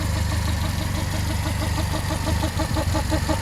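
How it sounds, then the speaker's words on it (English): An old fuel pump still fitted to a modified Triumph Standard 8 runs close by, a loud, steady mechanical drone with a fast, regular pulsing rhythm and a low hum underneath, heard alone. "That's the old fuel pump."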